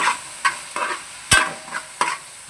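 Spatula repeatedly stirring green chilli, ginger and garlic paste as it fries in a pan for biryani, with rhythmic scraping strokes over a soft sizzle and one sharp knock against the pan, close and clear.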